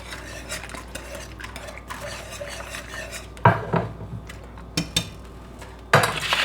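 Bacon added to a pan while making smothered pork chops: soft scraping and stirring at first, then several sharp clattering knocks of utensil against pan, close and distinct.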